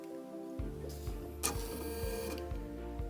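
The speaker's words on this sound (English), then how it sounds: "I'm just gonna sew with white thread." A sewing machine stitches quilt fabric with white thread in a steady, rapid mechanical rhythm, close and fairly quiet, with faint clicks over the whirring.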